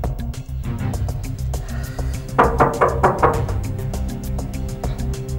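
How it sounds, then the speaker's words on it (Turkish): Knocks on a door in a television drama scene, a cluster of about four sharp raps near the middle, heard over a low background bed with no talk. "Çal bakayım kapıyı."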